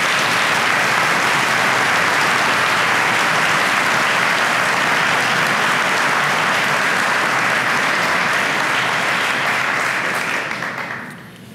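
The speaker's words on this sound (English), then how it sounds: "let's give the donors a round of applause." A large audience gives a round of applause for donors at an agricultural grain and forage center event, loud and sustained dense clapping that holds for about ten seconds before quickly fading out.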